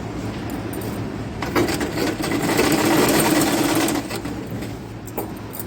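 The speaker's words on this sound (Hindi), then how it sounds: "लॉक करके हम सीधा सिलते हुए चले जाएंगे" A sewing machine stitches straight seams on underwear fabric with a steady, fast mechanical whir, swelling louder in the middle of the run before easing back, heard close up.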